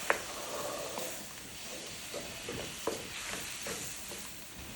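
Taylor dry sherry sizzles in a pan with chicken and shrimp, giving a close, steady frying hiss with soft crackles and a few sharper pops and stirring scrapes, heard alone without talk.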